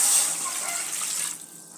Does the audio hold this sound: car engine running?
no